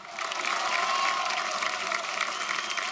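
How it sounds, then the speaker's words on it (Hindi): A studio audience at an antakshari singing reality show bursts into loud, sustained applause with a murmur of crowd noise beneath, holding steady for a few seconds. "जोरदार तालियां"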